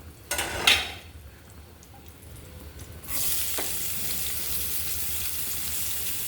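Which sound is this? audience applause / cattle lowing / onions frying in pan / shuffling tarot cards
onions frying in pan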